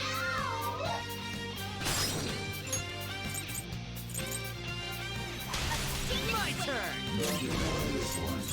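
A cartoonish cat meows when pressed in Persona 5 Royal, two short rising-and-falling mews standing out over game music and clattering effects while a voice talks.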